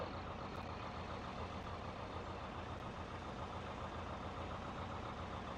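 A heavy truck engine idles steadily in the driving game BeamNG.drive, a deep continuous rumble with no breaks, loud and close throughout.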